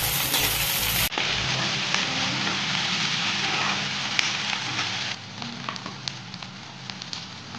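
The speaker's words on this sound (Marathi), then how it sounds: "हे दोन्ही मिक्स असं भाजून घ्यायचं आहे तेलावरती छान" Green chilies and onion frying in hot oil for kunjara bhaji, a steady close crackling sizzle that runs throughout, easing slightly in the final seconds.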